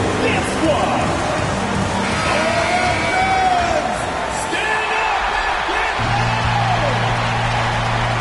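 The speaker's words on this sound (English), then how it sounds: "Big round of applause for your youth dance squad." Basketball arena crowd cheering and applauding during a timeout, a dense roar of voices and whoops with a public-address voice and music carrying over the noise.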